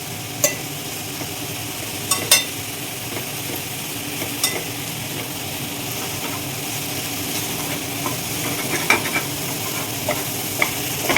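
Cabbage curry with green peas frying in a pan, stirred steadily with a soft continuous sizzle and scattered scraping clinks of the spoon against the pan, close and unaccompanied.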